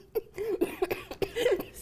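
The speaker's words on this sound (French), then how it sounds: "C'était pas mon objectif de te faire tousser" A few short, sharp coughs close by, broken up with throaty voiced sounds over a couple of seconds.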